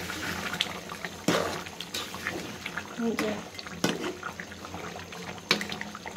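Water splashes into duck curry being cooked down in a pan, a series of sharp pours and sizzling bursts over a voice talking throughout.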